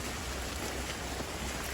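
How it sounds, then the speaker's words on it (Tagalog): Heavy rain pours down as a loud, dense, unbroken hiss that fills the whole moment, steady and close with no gaps, and nobody talks over it. "grabe ang ulan ngayon sa ano na yan"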